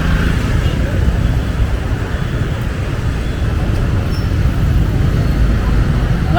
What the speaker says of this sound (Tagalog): Sobrang dami ng motor.